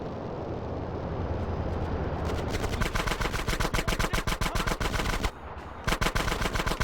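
Rapid automatic gunfire tears into crates in GTA San Andreas, a loud steady stream of repeating shots over rumbling background noise, briefly pausing before resuming.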